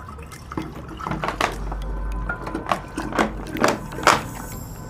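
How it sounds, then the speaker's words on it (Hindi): Water poured into a container for a homemade battery cell experiment in a school-lab style setup: a close, splashy trickle that swells in uneven gurgling bursts, with no one talking. "सबसे पहले पानी लिया"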